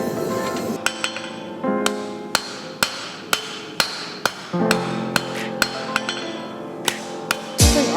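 A hammer strikes a wrought iron san mai blade during forging, a steady series of sharp ringing metallic blows roughly every half second, loud and close with bright clinking overtones.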